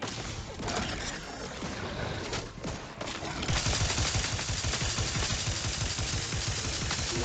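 Gunfire in the video game The Outer Worlds 2, dense rapid bursts of shots that build into a sustained loud fusillade during combat.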